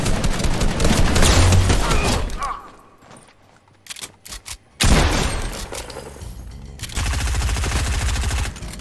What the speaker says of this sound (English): Heavy sniper.